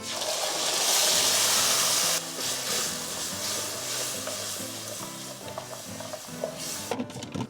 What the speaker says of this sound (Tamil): தக்காளி மீடியம் ஃப்ளேமில் இந்த மாதிரி 5 நிமிஷமாக கொதிச்சுன்னு இருக்கு